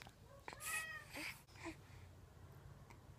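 A hungry house cat meows a couple of times in quick succession, faint and somewhat distant, followed by quiet room sound.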